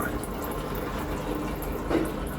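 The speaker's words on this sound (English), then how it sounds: "I've just stopped the water from flowing out now." Water pours steadily out of an aquarium filter in a continuous splashing flow, moderately loud and close, with a small gurgling swell near the end and no one speaking.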